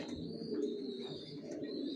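Racing pigeon chicks, vaccinated and healthy, cooing steadily in a continuous low murmur with a faint higher twitter above it, close and even throughout with no voices.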